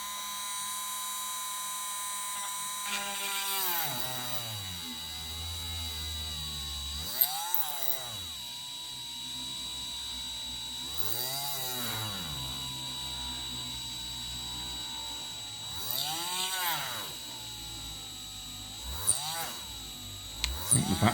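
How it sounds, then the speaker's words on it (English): Small battery drill boring into a prop Harry Potter wand: a high whine that repeatedly revs up and winds down in short bursts, several pulses spread across the clip, close but fairly quiet, with occasional clicks. "See if I can drill down in there"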